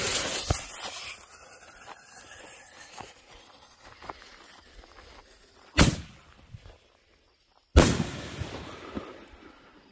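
Neon-effect firework canister shells burst with two loud, sharp booms a couple of seconds apart, amid scattered smaller pops and crackling echoes outdoors.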